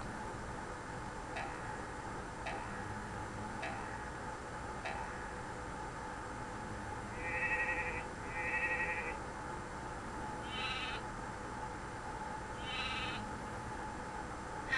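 Several short, faint sheep bleats rise over a steady background hum, along with a few soft ticking clicks spaced through the recording.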